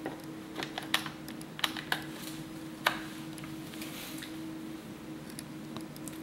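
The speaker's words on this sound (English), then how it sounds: "Let me try to plug this in." A USB game controller being plugged into a Toshiba Thrive tablet, producing a series of faint plastic clicks and taps scattered through a quiet background, with a few sharper snaps.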